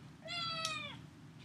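A house cat gives a single clear, close meow, rising then falling, lasting under a second over faint room noise.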